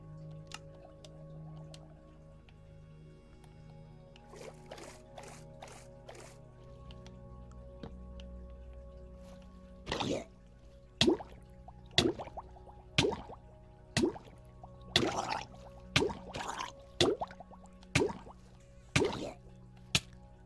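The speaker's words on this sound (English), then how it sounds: "I am now in the water." Minecraft player swimming through water, a run of sharp splashy strokes repeating roughly once a second after a quieter stretch of faint ambient tones.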